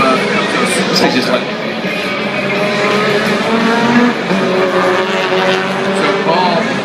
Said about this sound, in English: Ericsson trying for that third position as the Control 4 vehicle comes to us.